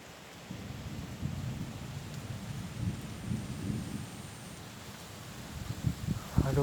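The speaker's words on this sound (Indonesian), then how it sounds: "udah ada petir." Thunder rolls low and distant during light rain outdoors at a fishing spot, a faint, steady rumble building toward a louder burst at the end.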